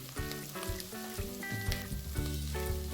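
Onions and garlic sizzle together in a pan for a broccoli soup, a bright continuous crackling fry under a sustained tonal layer, fairly close, with no talking.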